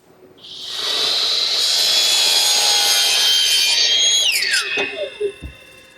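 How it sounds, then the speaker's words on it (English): A power miter saw slices a 45-degree cut through wooden picture frame moulding, a loud steady whining cut that holds for several seconds before the blade spins down and clatters to a stop. "my power miter box does a real good job cutting the 45-degree angle cuts"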